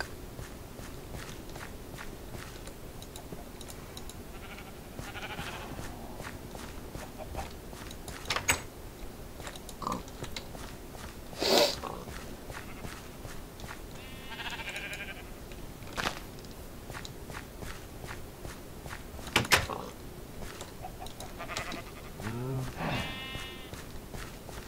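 Sheep bleat now and then in a video game farm, distinct calls over constant footstep-like shuffling, with a few sharp louder knocks and occasional quiet talk.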